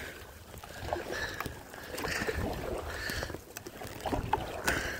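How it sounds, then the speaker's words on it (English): Small boat paddled upstream against the wind: repeated soft paddle strokes and water splashes over a continuous rushing of wind and flowing water, close-up with no talking. "I'm paddling against the wind, so paddling upstream, so to speak"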